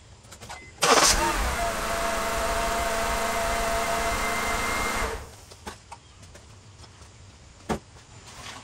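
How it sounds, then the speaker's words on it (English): A 2005 Honda CR-V engine cranks and fires, then idles steadily for about four seconds before shutting off, close by with faint background noises afterward. "let's start the car up."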